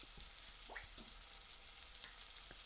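Tomato with sweetener, coriander powder, garam masala and ginger-garlic paste sizzles and fries in a pan, a steady close crackle with a few soft stirring scrapes.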